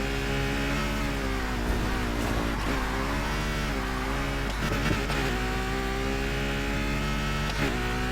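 A V12 car engine in the racing game Need for Speed Heat revs continuously and loudly, rising and falling as it climbs through high RPM with steady gear changes, up close and with no talk.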